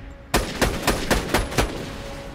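Enemy gunner firing a machine gun in a Borderlands video game: six loud, evenly spaced heavy shots in a steady rhythm, close and punchy, without talk.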